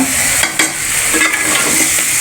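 Taro and broiler chicken being stirred in a frying pan, with repeated scraping strokes over a constant close sizzle, and no voices.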